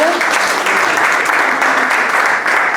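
Crowd applause for a doctor introduced at a Portuguese-language conference, close and loud, a continuous dense clatter of many hands throughout.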